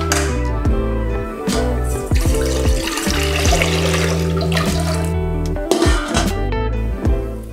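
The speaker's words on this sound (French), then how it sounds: "Maintenant, on va cuire nos pâtes 3 minutes dans de l'eau bouillante." Udon noodles cooking for three minutes in boiling water, a steady loud rush of bubbling and splashing water with sharp clatters throughout.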